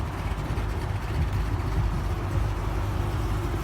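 A cammed car engine idles at a Holden Commodore SS, G8 and GTO meet, a low lumpy rumble running steadily and fairly close, with no talk over it.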